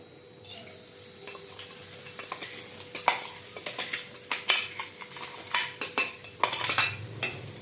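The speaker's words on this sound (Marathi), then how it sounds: "तर मी टाकून घेतलं आणि त्याला व्यवस्थित परतून घेते अगोदर" Ground peanuts and green chilies stirred and frying in hot ghee, with steady sizzling under repeated scraping and clinking of a spatula against the pan, close and fairly busy throughout.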